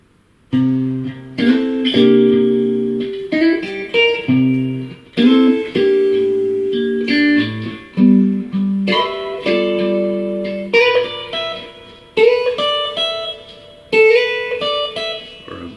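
Guitar ninth chords comp the second line of a slow blues in G, each chord strummed and left ringing in a relaxed, spaced rhythm, played up close with no talking.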